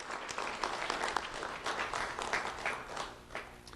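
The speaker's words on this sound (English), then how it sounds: "Round of applause for Ruth Reyes" An audience applauds at an award ceremony honoring an elementary school student, many hands clapping in a steady, moderately loud patter for a few seconds.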